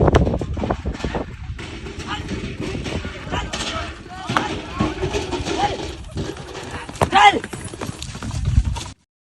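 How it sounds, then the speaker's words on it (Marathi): Bullocks and horses from a bullock-cart racing team run along a ghat road, their hooves clip-clopping steadily and loudly across the whole stretch, with people talking and calling over the pounding. "बैल पळवले मित्रांनो घाटात"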